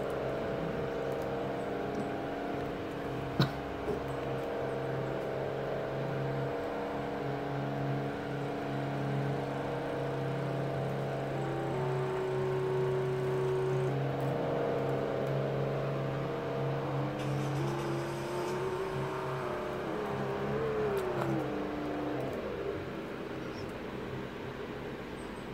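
A truck engine in the Roblox game Greenville idles with a steady low drone, then revs with rising and falling pitch sweeps in the second half, sustained and fairly loud with no talking.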